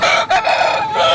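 A rooster crows loud and close at a Sunday poultry market in Nellore, one full sustained cock-a-doodle-doo with a brief break near the start.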